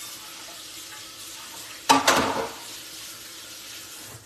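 Shrimp cook in a pan on medium heat, a soft steady background hiss broken about halfway by a brief louder burst of sizzle that fades back down, with no voices.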